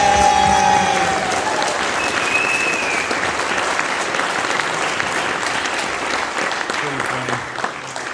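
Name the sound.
applause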